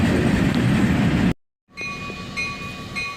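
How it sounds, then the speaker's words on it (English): Freight train led by an ES40DC locomotive with a pair of SD42s passing close, loud rumbling rail noise that cuts out briefly, then resumes with sustained tonal whine. "This lash-up has an ES40 DC leading with a foul horn. Following is a pair of SD42s."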